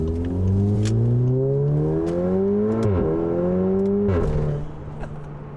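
A car engine revs hard and climbs in pitch with a loud, throaty exhaust, dipping briefly twice as it shifts, then settling to a steady drone.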